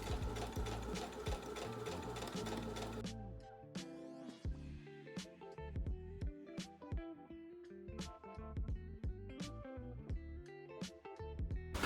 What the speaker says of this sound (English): We're now gonna sew all the way around here,